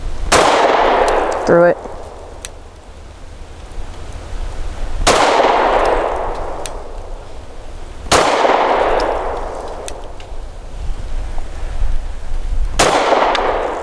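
Four loud, sharp shots from a BUL Armory Axe C Tomahawk pistol firing 115 grain ammunition at a steel target, each crack followed by a ringing clang and a decaying ring, spaced a few seconds apart, with a brief muttered word.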